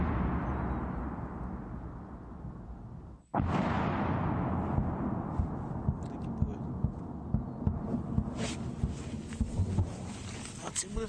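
Artillery fire on the Luhansk front: a low rumbling boom fades out, then a sharp, loud blast cuts in, followed by a long rolling rumble and repeated dull thuds, with a voice speaking.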